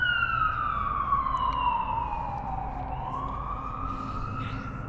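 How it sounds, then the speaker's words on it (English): An ambulance siren passes close by, its wail falling in pitch as it goes past and then rising again. It plays loud and continuous over steady road traffic noise. "And we got a siren coming, so. But yeah, I'll let that siren go by."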